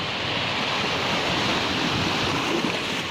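Steady roar of surf washing onto a white-sand beach in Basud, Camarines Norte, broad and continuous with wind noise buffeting the microphone.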